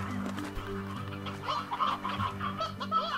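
Chicken in the Slime Rancher video game, clucking and honking in brief repeated calls over steady game background music.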